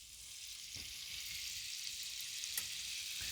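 Half a stick of butter fries in hot bacon grease in a pan, giving a soft, steady hiss of sizzling with a few faint clicks and no voices.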